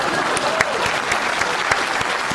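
Steady, dense applause from a studio audience on a comedy talk show, loud and continuous throughout with sharp individual claps standing out.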